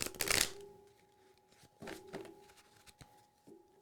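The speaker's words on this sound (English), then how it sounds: "So I'm going to do a backwards shuffle one time." A deck of tarot-style cards gets a single backwards shuffle, opening with a loud riffling burst, then a few softer flicks and taps as the cards settle, close up in a quiet room.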